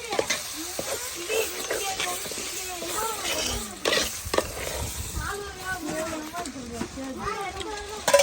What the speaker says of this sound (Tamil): நல்லா மசாலாலாம் வதங்கி இப்படி எண்ணெய் பிரிஞ்சு வரும்ல